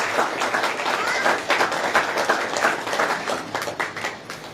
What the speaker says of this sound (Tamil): அனைவரின் பலத்த கரகோஷத்தோடு